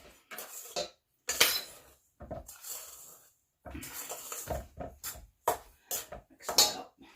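Eggs being mixed into German apple cake batter with a utensil clinking against a bowl, the scraping and tapping bursts coming in short spurts separated by quiet gaps.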